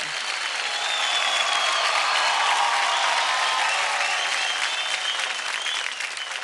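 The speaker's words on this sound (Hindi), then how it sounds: "जोरदार तालियां हो जाए वैभव और सनम के लिए." Studio audience on the Indian dance TV show Dance India Dance Season 3 breaks into loud, dense applause that carries steadily from start to finish with no letup.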